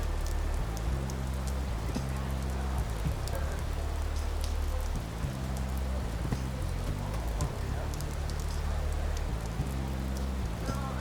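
Steady rain falls in a video game set around a cabaret, a dense even patter running throughout beneath low game music with no talk.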